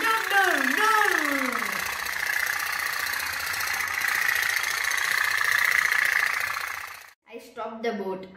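A small toy steam pop-pop boat, heated only by a flame from a wax burner, putters steadily at close range for about seven seconds and then cuts off, with a voice humming a sliding imitation of its doot-doot sound near the start.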